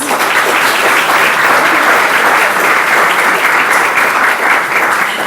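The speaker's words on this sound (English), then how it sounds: "Let's have another round of applause." Luncheon audience giving a round of applause, dense close clapping from many people at a steady loud level throughout, with no voices on top.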